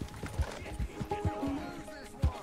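A horse's hooves clip-clop unevenly in the video game Red Dead Redemption, a series of dull thuds spaced irregularly, with brief tonal game sounds and a voice faintly in the background.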